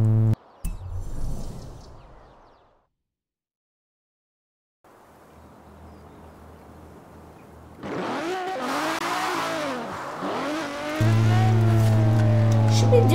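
The Quartz Regalia sports car in Forza Horizon 4, stock engine upgraded, starts up and accelerates, its engine rising and revving loudly with rapid pitch sweeps as it pulls away. Game music plays, and a voice speaks under it.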